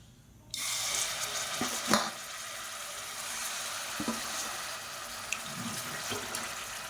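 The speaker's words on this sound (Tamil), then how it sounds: "எண்ணெய் நல்லா சூடானதும் நம்ம ஊற வச்சு வச்சுருக்கிற இந்த சிக்கனை அப்படியே சேர்த்துக்கலாம்" Marinated chicken hitting hot oil in a pressure cooker, giving a steady close sizzle that starts abruptly and holds with a few small pops and clinks.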